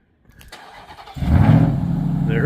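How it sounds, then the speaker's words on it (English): A supercharged Hemi engine cranks briefly, catches and fires, then settles into a loud, rough, throbbing idle close by. "How about that good old supercharged Hemi motor?"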